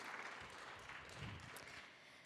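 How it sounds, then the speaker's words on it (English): Congregation applause at a Sunday church service, a steady wash of clapping from a crowd lasting throughout, moderately distant and even in level. "If we can give them a round of applause for leading us this morning."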